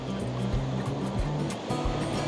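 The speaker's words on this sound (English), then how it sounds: "possibly some crashing waves" Steady roar of surf with waves crashing on rocks and washing continuously at Little Fistral Beach in Cornwall, loud and close, no voices.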